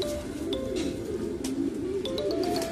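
Racing pigeons coo softly in a loft, with a few low, rolling coos and soft chirps over a steady background murmur, fairly faint and without talk.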